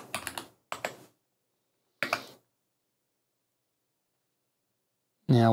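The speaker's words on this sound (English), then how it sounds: "So let's type in exif." Several short bursts of computer keyboard keystrokes type a terminal command, with clusters of quick taps separated by silence, followed by a brief voice at the end.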